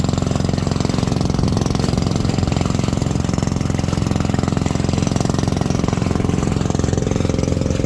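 A fishing boat engine runs loud and close, a steady rapid chugging drone that continues unchanged the whole time.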